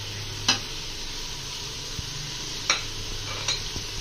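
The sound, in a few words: frying spices with beef in a pot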